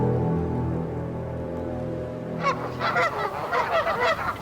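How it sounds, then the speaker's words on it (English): Canada geese honk in the open spring countryside, several nasal calls overlapping in an irregular burst after a low, tonal stretch of ambience. "Canada geese trumpet the opening of the spring season."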